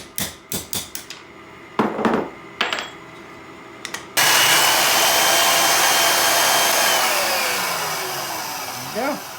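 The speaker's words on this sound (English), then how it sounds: "I'm going to take this piece over to the saw, zip it down on the line" A power saw runs loud and close after several sharp knocks and clatters, its continuous whining roar cutting through knife handle material along a traced line and easing slightly toward the end.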